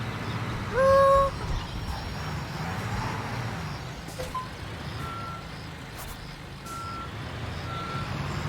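A construction truck in Construction Simulator 2022 sounds its reversing alarm: a pair of loud beeps up close, then steady, fainter repeating beeps over a low engine rumble.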